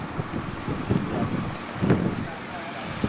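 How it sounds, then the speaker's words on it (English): Steady wind buffeting a microphone outdoors, a low rumbling rush with a couple of stronger gusts. "It's a windy day today"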